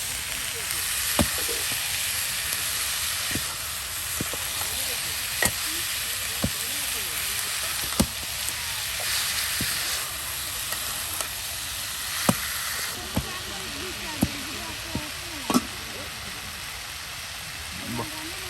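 Food frying in a pan over an outdoor fire among a Bede community in Bangladesh, a steady sizzle with occasional stirring clicks and clatters throughout.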